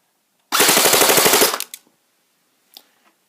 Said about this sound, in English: Now for a rate of fire test with the CQB spring.